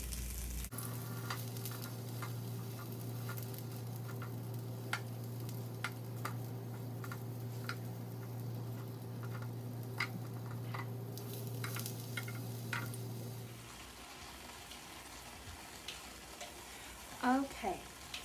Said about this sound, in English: That's what that sizzle is. It's the juices from inside coming out.